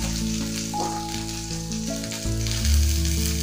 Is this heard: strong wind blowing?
no